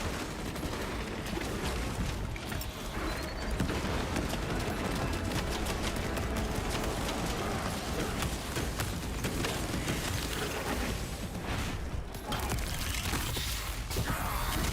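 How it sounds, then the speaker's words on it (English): Cannons fire in a Space Marine video game siege mode, a dense, continuous barrage of blasts and crashing impacts that rolls on loudly without pause, with heavy battle noise packed throughout. "Last cannon activation in progress."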